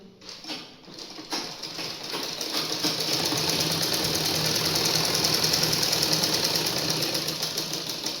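Sewing machine stitching a frilled pillow cover, a loud steady rapid mechanical chatter that starts with a few hesitant bursts, then runs continuously and close for several seconds without talk.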